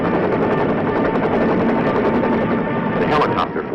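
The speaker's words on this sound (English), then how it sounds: "We fly above the beach assault force, for our helicopter landing zone is well inland" A military helicopter flying above a beach assault force during the Vietnam War in 1967, a loud continuous rotor and engine drone heard close, with someone talking over it.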